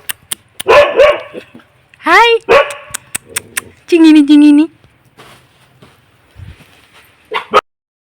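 A small dog yips and barks in short, high bursts, several times, close by, with gaps of quiet between them.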